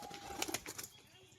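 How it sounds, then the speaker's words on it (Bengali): A female pigeon gives a brief, faint burst of wing flapping, a few quick soft flutters close by, then quiet. "এটা মাদি পায়রা।"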